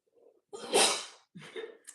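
A single forceful sneeze bursts out after a short intake of breath, followed by a quick sniff and a breathy exhale close to the listener.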